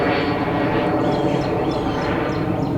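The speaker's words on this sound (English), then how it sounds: "Oh, now we got a plane flying overhead." An airplane drones overhead as a steady, broad rumble that fills the whole stretch, fairly loud and continuous, heard during an outdoor radio loop antenna test.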